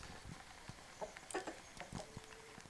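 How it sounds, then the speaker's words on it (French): A Sussex rooster kept in a cage clucks and makes short scattered calls, faint and close, against a low background hiss. "Mon coq Sussex."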